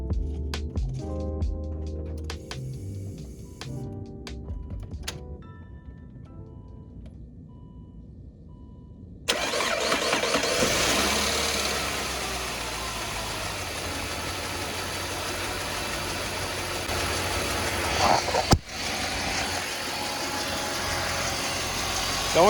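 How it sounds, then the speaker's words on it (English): A Saab 9-5 engine with a newly replaced ignition cassette and spark plugs cranks and catches, then settles into a steady, close idle with a sharp transient late on; quiet music plays beforehand. "Let's test fire this thing, take it for a quick spin around the block"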